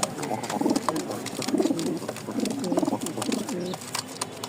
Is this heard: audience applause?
no